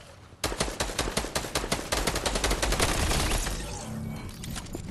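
A rapid string of gunshots in a video game rings out as close, loud repeated cracks, then fades into lingering echo and background noise, with no talk over it.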